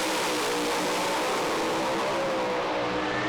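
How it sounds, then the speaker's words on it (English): A funny car drag racer at the staging lanes of a Pro Alcohol drag meet in Sydney, its engine held at a steady, loud, continuous rev for the whole stretch with no talk over it. "Now they'll build the revs and just bump them into full stage."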